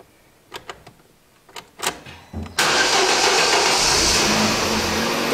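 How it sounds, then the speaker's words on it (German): An Opel Astra engine starts with a sharp crank and catch, then idles loudly and steadily, after several short clicks and knocks beforehand; no talk. "Ihr startet den Motor."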